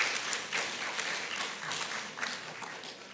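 A church congregation applauds together in a broad, even wash of clapping that lasts a few seconds at moderate distance, with no speech over it.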